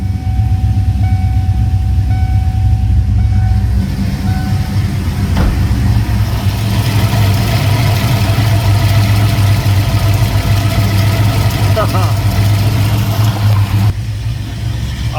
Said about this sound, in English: I got the idle turned down.